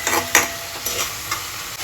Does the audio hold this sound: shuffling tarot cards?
no